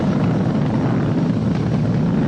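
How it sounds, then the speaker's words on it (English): SpaceX Falcon 9 rocket engines roaring during ascent, a constant dense rumble heard from a distance with no breaks. "We've exceeded Mach 1 on the Falcon 9"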